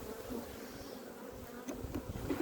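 Honeybees hum around apiary hives during spring colony equalizing, a soft, continuous buzzing swarm heard close with occasional individual bees passing nearby.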